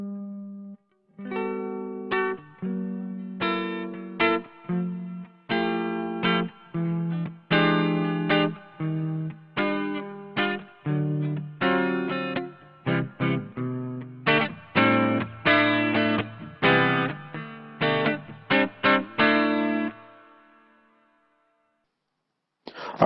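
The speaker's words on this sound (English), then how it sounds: "we can also switch up to the neck pickup here and get some nice jazzy tones" An electric guitar on its neck pickup runs through a Hotone BritWind amp simulator, playing warm, jazzy chords and single notes in a continuous phrase that ends on a sustained fade into silence.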